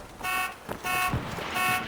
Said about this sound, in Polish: Alarm się włączył.